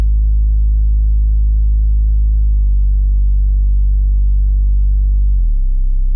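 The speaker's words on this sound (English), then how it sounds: "I'm using Serum, classic bass, sine wave, saw wave for a little bit of harmonics, filter, distortion and EQ." A Serum synth bass made from a sine wave plus a saw wave for harmonics, run through a filter, distortion and EQ, holds one deep sustained tone that steps down in pitch twice, loud and steady with nothing else playing.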